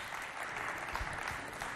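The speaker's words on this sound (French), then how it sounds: "On l'applaudit bien fort, s'il vous plaît." An audience applauds at a youth coordination event from Sainte-Thérèse, the clapping steady and dense throughout the short stretch, with nothing else breaking through.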